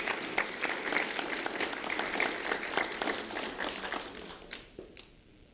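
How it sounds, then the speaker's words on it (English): Sustained audience applause at a Lee County Sheriff's Office award ceremony, dense steady clapping from a crowd filling the room and fading out toward the end. "a round of applause for Lisandro Diogo Estrada."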